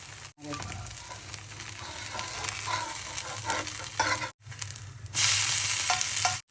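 A potato pudla sizzles steadily in oil on a pan, a close, continuous frying hiss broken by two brief dropouts and rising louder near the end, with no talking.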